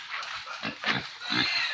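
White pigs being herded to a new area on a farm, giving several short, rough grunts and snorts at close range, with some background noise around them.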